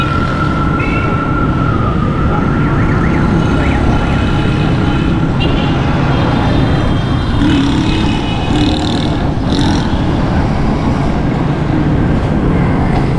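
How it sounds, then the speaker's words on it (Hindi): An ambulance siren wails and shifts pitch as it passes along a busy street in Saddar, Karachi, set against loud, rumbling traffic noise. "ये एम्बुलेंस जा रही है"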